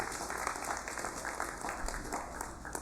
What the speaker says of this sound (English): Please, let's also give them a round of applause